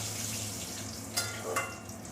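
A bay leaf drops into hot oil while cinnamon and cardamom cook for a green jackfruit curry, giving a steady close hiss with a couple of brief crackles, and no one speaks.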